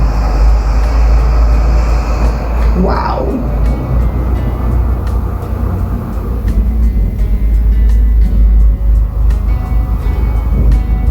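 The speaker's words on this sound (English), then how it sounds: "excuse the noise, there's like cars outside" Loud, steady traffic rumble outside dominates throughout, heavy low-end roar with a vehicle passing by, while a voice speaks faintly underneath.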